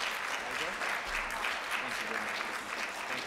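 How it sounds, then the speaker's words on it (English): Audience applause after a symposium talk, steady, moderately distant clapping from a seated crowd that continues evenly throughout. "One more round of applause"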